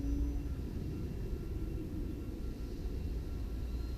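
E-Flite Timber X RC airplane flying slowly overhead, a faint, steady distant motor drone with low rumble and no voices.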